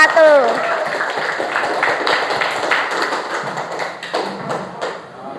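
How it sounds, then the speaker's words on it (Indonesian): Classroom applause for a student group at a teacher performance assessment in Makassar, a dense patter of hands that carries on steadily for several seconds, with a voice speaking briefly near the start. "Tepuk tangan untuk kelompok 1"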